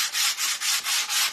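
Sandpaper rubs back and forth across a wooden stencil board, with six or so even, steady strokes in a quick rhythm, close and loud with no talking.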